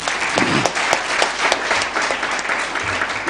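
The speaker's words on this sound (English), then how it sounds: "let's just clap for ourselves" Audience at the All Kenyan Moot Court Competition applauding, a dense, steady burst of many hands clapping close and loud throughout, with a few sharper individual claps standing out.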